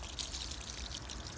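Water pours steadily from a sprinkling can onto potted petunias, giving a continuous close splashing rush with no talk over it.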